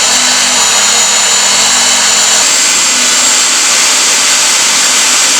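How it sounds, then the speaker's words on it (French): Loud, continuous whine of a magnetic drill boring through steel purlins for a metal roof frame, a steady close grinding drone with no talk. "Je suis en train de percer les pannes actuellement pour faire la charpente."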